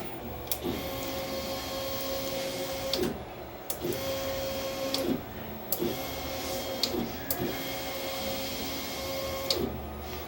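An inkjet printer whirs and clicks through a nozzle check, with its carriage shuttling back and forth in a steady repeating rhythm of motor hums and sharp ticks at each end of travel.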